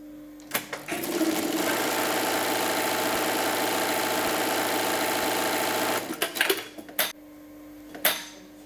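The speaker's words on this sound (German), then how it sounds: "Wenn das Etikett angenäht ist, verriegelt Margit Kerscher die Gürtelschlaufen, sodass die Hose später auch ordentlich was aushält." An industrial sewing machine bartacks belt loops onto heavy jeans, running loud and close in one continuous burst of about five seconds, followed by a few short clunks and clicks as the work is shifted.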